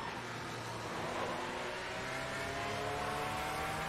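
Race car engine from the sim racing game Automobilista 2, a steady mid-distance drone of engine tones held at an even level for about four seconds, with no talk.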